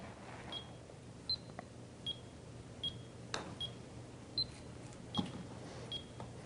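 An EyeLine Golf Metronome PRO gives short, quiet electronic beeps at a steady pace, with one clearer beep near the end, over faint room noise and soft clicks.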